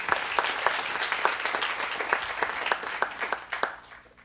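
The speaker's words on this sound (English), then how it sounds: "Give her a round of applause." Audience applause after an introduction at a university presentation evening, a steady wash of many hands clapping with a few sharper individual claps standing out, fading slightly toward the end.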